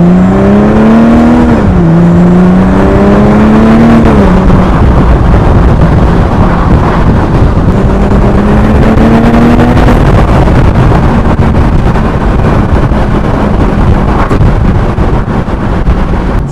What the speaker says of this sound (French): Et là, ça vous ouvre les valves de l'échappement. Et vous avez une auto qui devient tout de suite beaucoup plus rageuse.